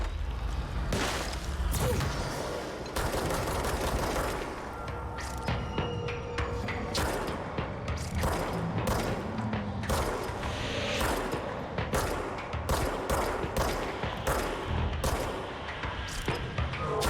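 Gunfire directed at the player in the video game Control comes as sharp, loud bursts and single cracks repeating irregularly throughout, with whooshing impacts between shots.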